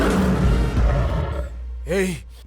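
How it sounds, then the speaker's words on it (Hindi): A single deep lion roar swells briefly near the end, following a stretch of loud rumbling dramatic sound from a Hindi-dubbed action film. "दहाड़ने वाला शेर।"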